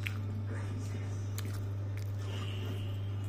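Someone eating a home meal, with soft wet chewing and small bites close to the microphone over a constant low electrical hum, and a few faint clicks scattered through.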